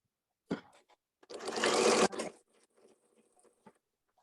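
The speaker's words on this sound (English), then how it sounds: "now we're just going to sew across the bottom, and that's going to catch both of those seams in there" Sewing machine stitching across the bottom of a quilted pocket, with a short burst at the start, a steady run of stitching in the middle, then scattered small clicks and handling noises, close and fairly quiet.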